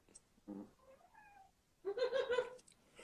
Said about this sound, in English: my cat starts meowing